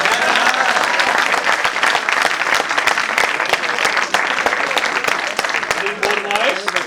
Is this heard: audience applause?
yes